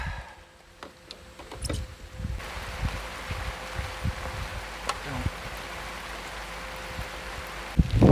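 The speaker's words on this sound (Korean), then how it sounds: "비가 너무 많이 옵니다. 이 상태로는 낚시 불가합니다, 지금." Heavy rain and wind at a lakeside fishing spot, a steady close hiss of drops on surfaces with scattered louder taps and thuds, no talking.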